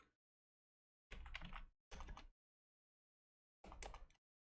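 Three short bursts of rapid typing on a computer keyboard, close and clear with silent gaps between them, no voices.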